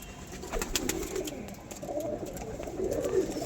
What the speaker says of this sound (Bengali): সবুজ পায়রা দেখুন, ম্যাড্রাস পায়রাও আছে